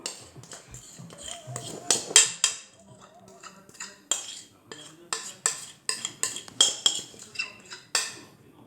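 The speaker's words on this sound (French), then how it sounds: "je redonne un petit coup au mélange" Plum clafoutis batter is stirred in a bowl with a utensil, giving repeated sharp clinks and scrapes against the dish in an irregular rhythm, close and fairly loud, with brief talk in between.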